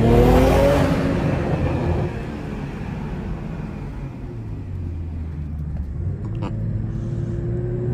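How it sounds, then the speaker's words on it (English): A BMW M340i engine rumbles and revs with a deep, steady drone under an overpass, its sound filling an enclosed, echoing space, swelling slightly near the end. "Listen to this car under the overpass."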